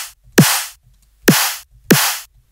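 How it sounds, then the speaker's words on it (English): Dry dubstep snare drum sample with no EQ applied, struck three times at an uneven pace; each hit is a loud, punchy crack with a low body thump and a bright noisy tail, isolated with silence between hits. "And then for our snare, I do a little bit of processing for that."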